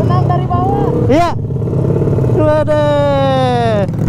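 A motorcycle with a retuned pulley and rollers revs hard on a top speed run, its engine note rising in loud sweeping climbs that swell and drop, with a sharp whine midway; the tone is close and loud throughout.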